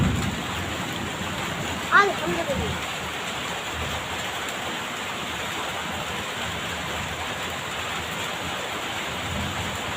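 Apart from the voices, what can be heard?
heavy rain falling on a courtyard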